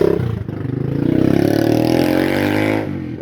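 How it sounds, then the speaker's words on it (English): Traffic passing along a street in the Philippines: a car engine rises and holds for a few seconds as it drives by close, then fades, with no talking. "Every now and again we have a little bit of traffic, so we might have to be a little bit quiet."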